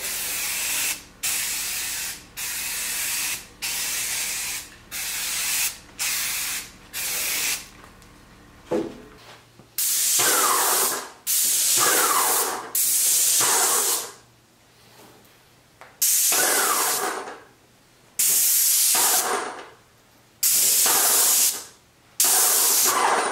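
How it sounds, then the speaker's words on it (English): A spray gun spraying paint onto a primed sample board, with repeated short hissing bursts close by, most of them a second or two long, separated by clicks and brief silences. "I've primed and sprayed 2 coats of paint on this board."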